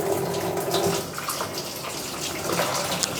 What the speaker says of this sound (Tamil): இப்போ தண்ணி பிடிக்க விட்டுருவோம்